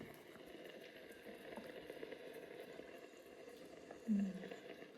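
A pot of pasta water boiling on a stove, a steady low bubbling that holds evenly throughout with one brief louder burst near the end.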